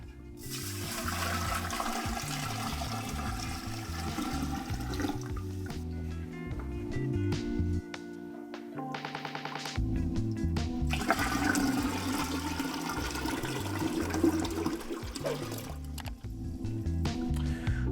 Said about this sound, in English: I can actually hear that bubbling down as it starts to make its way through the carbon